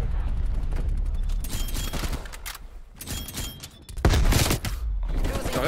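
Gunfire crackles in a dense, loud rattle of bursts, thinning briefly in the middle and then surging again with a heavy blast near the end.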